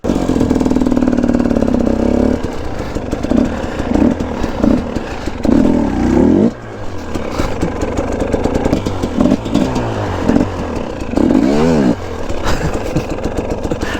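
A KTM EXC 250 two-stroke dirt bike idles close by, then blips and revs repeatedly in short, loud bursts with choppy dips between them while the rider maneuvers on a trail.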